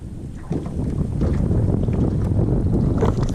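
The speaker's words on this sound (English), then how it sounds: "Wind's getting up a little bit." Wind gusting over open water during a spring crappie fishing outing, a steady low rumbling buffet that swells after the first half second and holds strong, close and loud with no talking.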